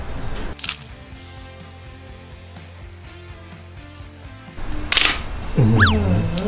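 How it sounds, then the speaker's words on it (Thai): A Pentax 6x7 medium-format film camera fires its shutter twice, each a loud, sharp mechanical clack about four seconds apart, over quiet background hum and some faint tonal sounds. "เสียงชัตเตอร์ ดูเดือดนะ"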